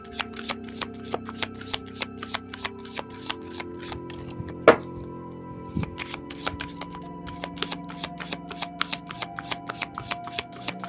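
Tarot cards are shuffled steadily for the full stretch, producing a rapid, even series of crisp riffles and taps close up, with one sharper knock midway and no talk.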